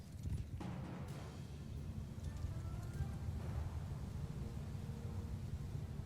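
Massed hoofbeats of horse archers in a Mount & Blade II: Bannerlord battle, a dense continuous low rumble of galloping cavalry with no distinct individual strikes, steady and loud throughout.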